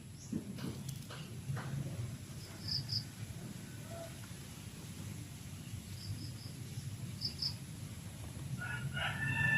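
Malaysian Serama chickens in a farm coop, with a faint rooster crow and light bird calls over a steady low outdoor rumble, no speech.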